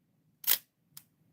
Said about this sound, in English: a lot of the research that went into these was dampening the shutter